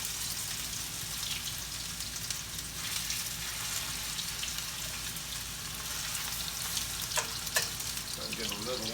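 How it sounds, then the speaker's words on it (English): Salisbury steak patties browning in a little oil in a pan, a steady close sizzle and crackle throughout with a few brief scrapes near the end, no talking. "put them in here, and I want to brown them off on both sides"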